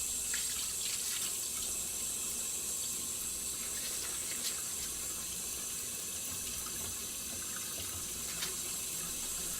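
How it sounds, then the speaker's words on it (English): Water runs steadily from a faucet into a sink during handwashing, a continuous close hiss with faint splashes and no speech. "Turn on the faucet with a paper towel if possible"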